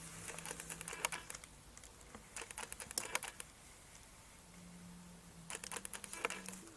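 Pencil tracing over a charcoal-backed tissue paper drawing laid on lino gives light scratchy strokes in short bursts, with quiet pauses between them, soft and close.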